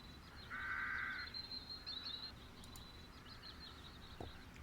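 Crows caw twice in the point-and-click adventure game The Dark Eye: Chains of Satinav, a clear harsh call followed by a fainter one over a steady ambient game background.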